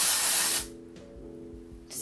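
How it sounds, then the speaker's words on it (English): A sharp hiss of aerosol spray bursts for about half a second, followed after a pause by a second short spritz. "I'm going to use some of the Way texturizing spray"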